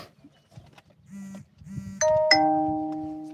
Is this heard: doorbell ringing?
yes